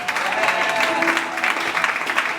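A church congregation claps, a dense and fairly loud patter of many hands sustained throughout, with a faint voice mixed underneath.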